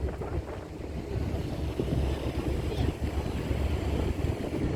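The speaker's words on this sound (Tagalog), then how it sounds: "Laki ng ferry." A large ferry passes on the sea along a Hong Kong seaside promenade, heard as a low, steady rumble under heavy gusting wind noise, with faint voices nearby.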